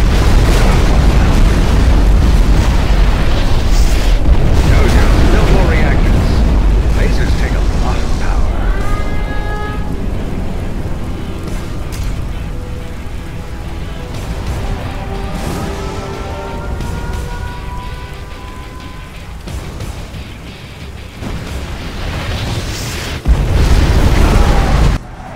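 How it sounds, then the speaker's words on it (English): A nuclear missile detonates in the real-time strategy game C&C Generals, a loud, sustained rumbling blast that rolls on for many seconds with crackling debris and a rising whine, while a game voice speaks over it. "We have launched our nuclear missile."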